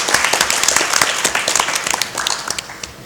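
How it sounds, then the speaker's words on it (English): A round of audience applause for both teams at a competitive match, brisk close clapping with distinct individual claps standing out and gradually easing off. "A round of applause for both teams."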